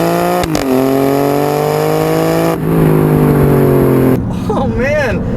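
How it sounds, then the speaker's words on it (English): A 2018 Alfa Romeo Stelvio Quadrifoglio with ZF 8-speed automatic accelerating hard on a straight road, the engine climbing steadily in pitch through two quick gearshifts, loud and close, with a voice speaking over the final moments. "Let's turn down onto this straight road here and see how it does. Here we go. Man, it takes off like a rocket."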